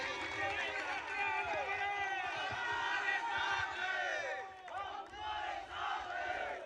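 Rally crowd of Shiv Sena supporters roaring and cheering for a political leader, a dense, sustained wall of shouting voices with rising whoops, briefly dipping before swelling again.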